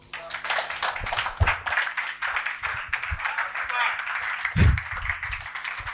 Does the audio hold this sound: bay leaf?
no